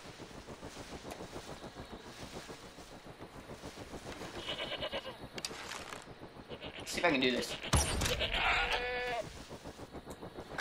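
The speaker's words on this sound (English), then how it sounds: "I found a lot of goats" Goats bleat in the video game Far Cry 3, a few close calls cutting through steady wind and surf ambience, with someone talking quietly at the start.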